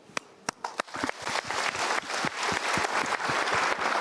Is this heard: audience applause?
yes